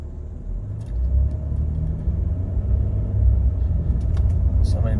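A 2022 Nissan Frontier pickup drives along with a steady low engine rumble heard from inside the cab. The drone rises gently and stays even with no harsh jolts, under faint road noise.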